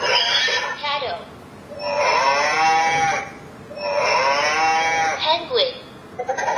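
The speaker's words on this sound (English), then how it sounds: "cattle," Cattle mooing plays from an electronic children's touch-and-read sound book, two long drawn-out bellowing moos separated by a pause, loud and close, with a brief electronic voice sound near the end.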